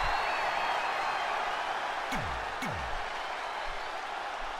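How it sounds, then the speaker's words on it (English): Steady crowd roar and cheering filling a wrestling arena in the WWE 2K20 video game during an Extreme Rules pay-per-view entrance, continuous and fairly loud throughout, with a couple of brief swooping effects cutting through. "Now the crowd on their feet"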